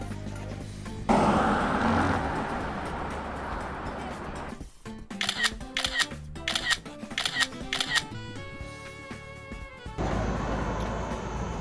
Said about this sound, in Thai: ลั่นชัตเตอร์กันเสร็จแล้วครับผม